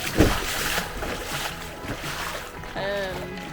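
Paddles and bodies splash the water while kayaking on Lake Malawi, with a sharp close splash at the start, then a steady wash of lake water and wind, and a brief voice near the end.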